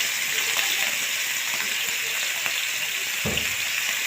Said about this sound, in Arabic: اللي احنا هنحمره كده بالبصل